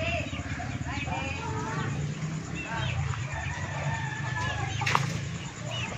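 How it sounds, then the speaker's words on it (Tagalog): Brown and Rhode Island Red chickens cluck and call on a farm, fairly faint and steady under a person talking throughout. "may mga manok tayo diyan sa sa baba. Yan yung mga decal brown at saka Rhode Island diyan natin nilagay."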